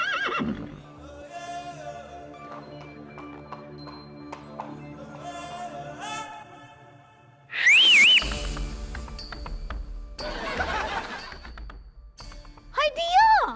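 During a Hindi comedy sketch, a sharp, loud whistle with a rising and falling pitch cuts in midway, and a shorter one sounds near the end, over talking voices and background music.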